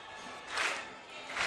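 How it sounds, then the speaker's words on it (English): A distant stadium crowd at the Australian Junior Athletics Championships claps in rhythm for a jumper, the hiss of hands swelling twice and carrying as a broad wash of sound. "Chen's calling the crowd, getting the clap"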